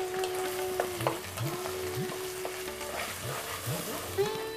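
Eggplant sizzling in hot oil with onions in a pan, a steady frying hiss with occasional stirring scrapes throughout.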